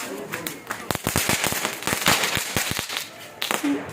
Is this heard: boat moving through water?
no